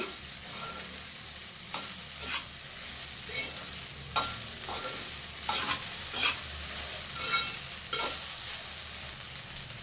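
Leftover cooked rice for mango pulihora is stirred and fried in a pan, giving a soft continuous sizzle broken by scraping spoon strokes at irregular intervals.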